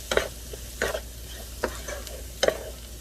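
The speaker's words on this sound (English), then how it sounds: "So we're going to go back to stirring this up." A spoon scrapes and stirs cauliflower rice with chopped green onion in a hot pan, giving several distinct clinks and scrapes over a soft, steady sizzle.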